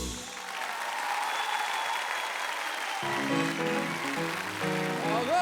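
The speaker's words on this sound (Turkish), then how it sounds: "alkışlayanların işleri inşallah rast gitsin" Studio audience applause after a live song performance on a Turkish TV talk show, a steady wash of clapping that continues as a speaking voice begins over it.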